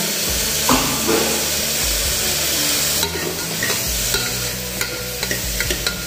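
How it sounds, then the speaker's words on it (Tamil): Chopped onions and tomatoes fry in a pan, giving a steady loud sizzle and hiss with scraping stirring strokes and a few light clinks near the end, no talk. "வெங்காயம் நல்லா வதங்கின பிறகு தேவையான அளவு கட் பண்ணி வச்சிருக்கிற தக்காளி"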